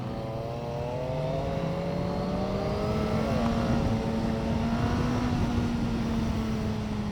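A BMW motorcycle engine revs and climbs steadily in pitch, loud and close, holding a rising, buzzing tone for several seconds with no talk over it.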